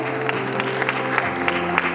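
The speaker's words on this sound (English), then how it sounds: "Keep clapping for the child" An audience at a school prize distribution ceremony claps for a child recipient, a steady, moderately loud ripple of applause over a low background hum, with a few sharper claps standing out.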